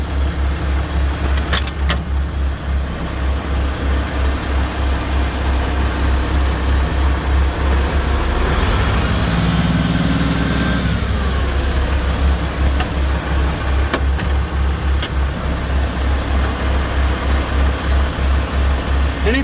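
An International Harvester 1486 tractor idles and runs up through its gears after a ring and pinion differential install, a steady heavy diesel drone close by with a brief rise in revs midway, then settling back down.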